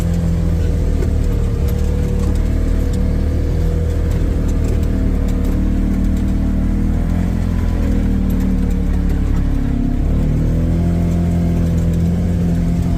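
A mid-sized vehicle engine plows setting snow along a backyard trail among birch trees, a steady loud drone that strains and shifts in pitch under load and never lets up.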